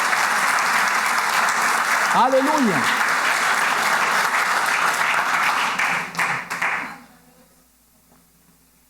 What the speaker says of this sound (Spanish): Denle un aplauso bien fuerte al Señor.